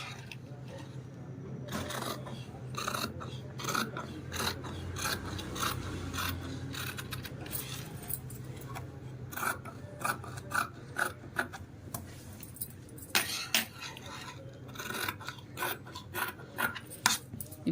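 Scissors cut through blouse lining fabric along a marked line, giving a run of close, rasping snips and rubbing cloth sounds that grow more distinct toward the end.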